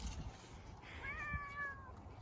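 A house cat meows near a compost bin, a single drawn-out, slightly wavering call rising and falling over about a second, close and clear against a quiet indoor background.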